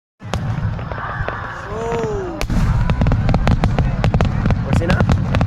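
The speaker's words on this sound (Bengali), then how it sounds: "এখানে আতশবাজি হবে" Fireworks at a Japanese summer hanabi festival: a whistling rocket rises, then a rapid, loud series of bursts and crackling pops fills the air, with voices of the crowd talking beneath.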